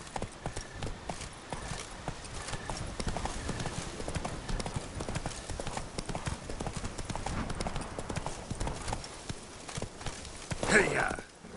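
A horse's hooves clip-clop steadily in The Witcher 3: Blood and Wine, a continuous, close trotting rhythm with a voice calling out briefly near the end.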